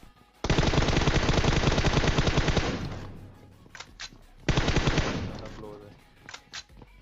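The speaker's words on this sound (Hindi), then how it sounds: "अब ये लोग आगे गोलियां दबा के चला रहे हैं" Two long bursts of rapid automatic gunfire in the video game PUBG, loud and sustained, separated by a few seconds of scattered single shots and quieter noise.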